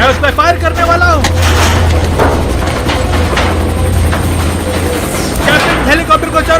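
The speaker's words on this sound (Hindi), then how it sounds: "मैं उस पर फायर करने वाला हूँ।" Gunfire in a loud movie action scene with a helicopter, dense rumbling blasts and a low mechanical drone filling the scene while voices shout over the noise.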